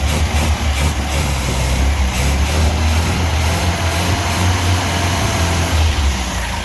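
A 1978 MGB Roadster engine idles at a steady speed, raised by adjusting the idle screws, a continuous low rumble close to the microphone with no talking.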